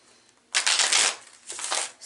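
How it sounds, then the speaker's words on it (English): Rider-Waite tarot deck shuffled by hand in two close, crisp riffling bursts of papery card flutter with a short pause between, no voices. "I've not pre-shuffled, so I will be shuffling."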